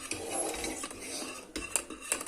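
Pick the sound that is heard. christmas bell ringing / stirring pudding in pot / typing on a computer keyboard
stirring pudding in pot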